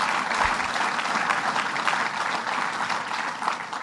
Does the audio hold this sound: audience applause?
yes